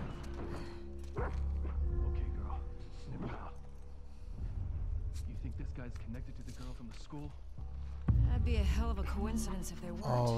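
Dogs barking and yipping in The Last of Us Part II, several sharp barks and whimpers at mid distance over game sounds, with a louder flurry near the end and a voice talking over them.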